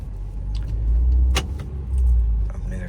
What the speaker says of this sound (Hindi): तो अब अपन लगाते हैं बालाजी का नाम लेके गियर और अपन रन करते हैं।